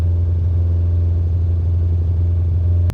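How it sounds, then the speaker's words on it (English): A 2-litre Ford Cortina rally car with twin Weber carburettors idles with a deep, steady, throbbing exhaust note close by, alone and evenly loud, ending in a sharp click. "So what I want you to hear is the exhaust note. It's perfectly tuned for this 2-liter engine."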